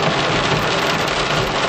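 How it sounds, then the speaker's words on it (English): Heavy thunderstorm rain pours steadily in Walkertown, North Carolina, a dense, loud, even roar of drops on surfaces with no break. "I hear the thunder, so."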